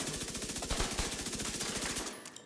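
A Backfire weapon in The Division 2 video game fires at a target in one rapid, evenly spaced automatic burst lasting about two seconds, loud and close, before it cuts off.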